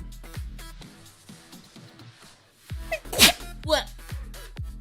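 One loud human sneeze bursts out sharply midway, followed by a few smaller snuffly breaths, while a dog-like rhythmic background pattern and quiet talk continue underneath.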